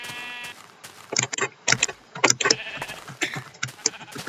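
Sheep in the early alpha version of Minecraft give several short, clipped bleats in an irregular series, fairly close and clear over a quiet background, with no speech.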